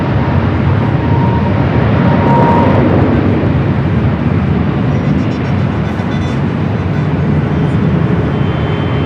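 An airliner taking off from runway 24 left at Los Angeles airport: a loud, steady broadband engine roar holding for several seconds, with no voices over it.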